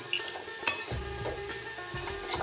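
A spoon stirs ash gourd, fried soybeans and salt in a pan over medium heat, with scraping, scattered metallic clinks and a faint sizzle. It is close and steady, with no talking.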